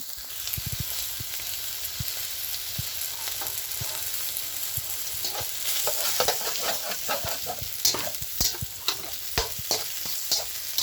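Mushrooms and ginger being stir-fried in a pan, with a steady oily sizzle under repeated scraping and clacking strokes of a spatula that grow busier and louder toward the end.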